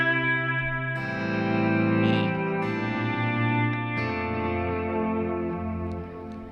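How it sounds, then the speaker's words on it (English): An electric guitar plays sustained, slightly distorted notes through a tape echo, its repeats smearing together into a reverb-like wash that rings on without any talking. "the way those repeats are feathering into each other, it turns into kind of a reverb effect"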